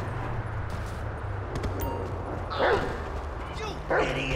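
Barks and yips from a dog in Grand Theft Auto 5 on Xbox One X, a few sharp calls over street and game ambience, mid-distance and fairly loud.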